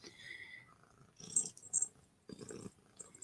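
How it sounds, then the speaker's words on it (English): Soft, low rumbling purr of a cat heard up close and quiet, broken by a few brief rustles and louder breaths. "And I'm sure you can hear her purring"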